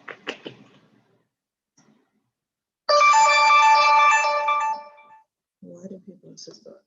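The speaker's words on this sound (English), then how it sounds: "Every time I turn off the sound, it just still chimes." A phone chime rings loud and steady for about two seconds, a bright tonal ringtone standing alone between stretches of a person talking before and after it.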